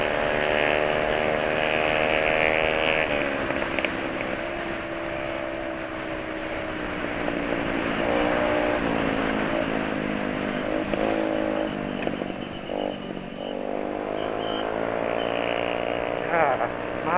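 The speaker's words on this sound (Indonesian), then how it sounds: "nikmati saja sebagai NMAX versus Aerox knalpot racing" Yamaha NMAX and Aerox scooters with loud racing exhausts rev and drone nearby, pitch climbing and dropping repeatedly in overlapping throaty bursts for a sustained stretch.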